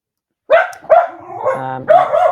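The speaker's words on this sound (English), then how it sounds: "Dogs are going crazy." Several dogs bark loudly and close by in rapid, overlapping bursts, with a drawn-out whining yowl in the middle before the sharp barking resumes.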